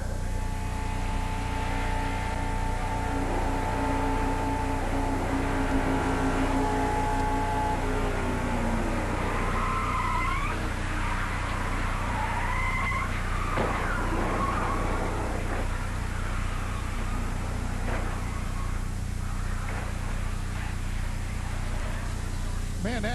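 A 1990 Pepsi 400 race car's in-car audio from Buddy Baker's car gives a constant, loud, droning engine hum, with voices talking over it as a high whine rises and falls midway.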